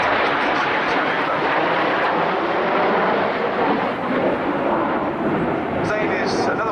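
Red Arrows jets in close formation roar overhead during the Big Vixen roll at the RIAT 2011 air show, a dense, continuous engine rumble beneath a commentator's voice.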